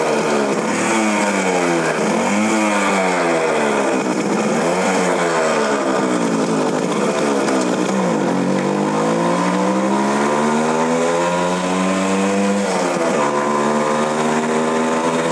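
A Suzuki Max100 two-stroke motorcycle, modified to resemble an RX100, revs loudly and close by throughout, its pitch rising and falling in repeated sweeps as the engine is pushed through its range.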